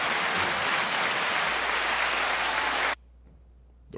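Sustained applause from an audience at a rap media show, dense and steady for about three seconds before cutting off abruptly into near silence.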